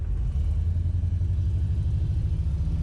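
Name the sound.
LS V8 swapped Chevy S10 pickup driving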